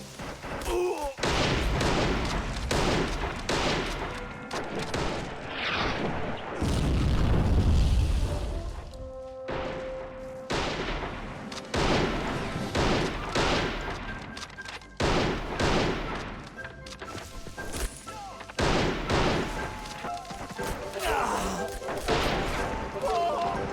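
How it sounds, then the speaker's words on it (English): Gunfire exchange in the war game Army Men of War, with repeated bursts of shots and heavy booms trading back and forth across the battle, dense and continuous, with someone talking at times over it. "Exchanging fire."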